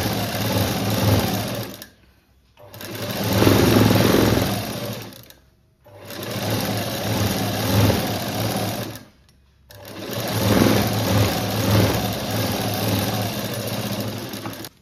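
Sewing machine running in four long bursts of steady stitching, separated by short pauses, while sewing a quarter-inch seam on a puff sleeve; loud and close, with no talking.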